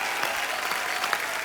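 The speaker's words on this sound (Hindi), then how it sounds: "जोरदार तालियां" A television studio audience claps steadily at a comedy show, a dense, continuous burst of applause close and loud throughout the short moment.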